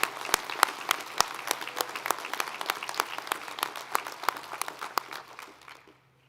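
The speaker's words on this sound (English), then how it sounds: "Let's give the foundation a round of applause." A commencement audience at a technical college ceremony applauds in a dense, crackling wash of claps with a few loud nearby claps standing out, holding steady before tapering off at the end.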